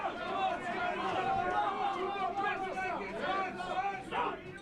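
A crowd at an amateur boxing match at Bloor Boxing Gym in Toronto murmurs and chatters throughout, with a steady hubbub and a commentator's voice over it.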